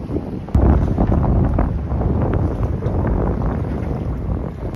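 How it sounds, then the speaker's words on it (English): Strong, gusty wind buffets an anchored boat at sea near a reef, producing a steady loud rush with microphone wind rumble and occasional knocks, no voices. "And it's windy as hell."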